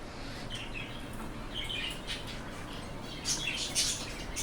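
Birds chirp and tweet at a bird market at Souq al-Ghazl, with several short, bright calls rising over a steady background murmur, moderately close.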